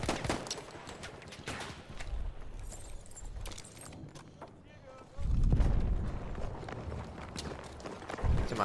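Gunfire in the game Battlefield 1 crackles as dense bursts of sharp shots over a busy battlefield, with a heavier, louder barrage rising near the end and voices in the mix.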